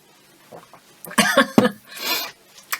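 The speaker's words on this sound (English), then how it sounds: "it's making me cough" A few short, harsh coughs sound close by, followed by a breathy rasp, with faint quiet sounds before them.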